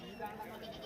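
A goat bleats briefly amid the bustle of a busy goat market at Shirur, Maharashtra, where Kota and Sirohi goats are sold, with talk mixed in around the call.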